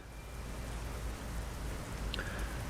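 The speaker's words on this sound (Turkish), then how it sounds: "Yağmur yağıyor." Steady rain falling in Euro Truck Simulator 2 on a Turkey map, a dense even hiss that holds at one level throughout with no talk over it.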